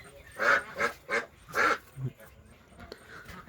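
Yi Liang ducks kept in a backyard pen quack several times in quick bursts, close and fairly loud, followed by softer scattered calls.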